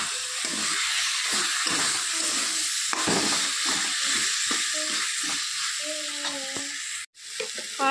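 Chopped tomatoes hiss and sizzle steadily in a hot pan for a katla fish curry, with a loud continuous frying crackle broken by the scrape of stirring.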